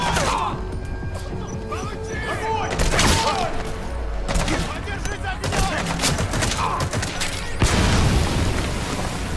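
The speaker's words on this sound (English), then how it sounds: "they're using mortars" Mortar fire and explosions in Metal Gear Solid V: The Phantom Pain, heavy booming blasts and crashing impacts landing repeatedly through a dense, loud battlefield din with gunfire mixed in.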